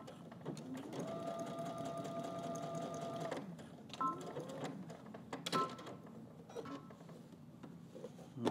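Sewing machine stitching close to a shirt seam, a quiet whirring run of rapid needle strokes for a couple of seconds, then short stop-start bursts and clicks as the stitching pauses and resumes.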